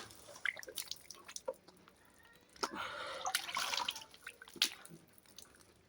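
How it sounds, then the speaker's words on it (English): Water splashes and drips at a sink during face washing, with scattered close drips and a short burst of running, splashing water in the middle. "I want to wash my face."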